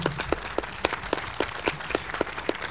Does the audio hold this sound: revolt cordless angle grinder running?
no